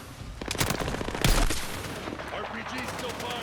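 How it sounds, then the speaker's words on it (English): An RPG rocket launcher fires in Battlefield 6 amid rattling gunfire, a single heavy blast standing out near the middle over ongoing shots, with voices talking in the mix. "RPG still firing, Gecko."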